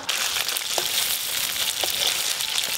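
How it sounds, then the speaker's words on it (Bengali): Mustard oil sizzles in a hot pan after potatoes have been fried, giving a loud, continuous crackling hiss close by with a few faint clinks and no speech. "আর একটু সর্ষের তেল দেব"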